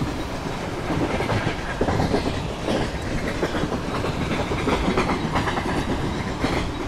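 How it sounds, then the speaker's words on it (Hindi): A passenger train rolls along the rails in a train simulator game, with a steady rumble and rhythmic clickety-clack of wheels on the track, continuous and fairly close. "चलो यार ट्रेन की स्पीड को अब थोड़ा कम करते हैं, ट्रॉटल को मैं क्लोज कर दूंगा।"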